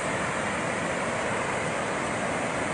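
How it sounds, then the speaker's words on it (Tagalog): Torrent of water rushing out of the open spillways of Magat Dam, a steady, dense roar with no break, heard close and loud on its own. "Ito na yung tubig na lumalabas sa Magat Dam."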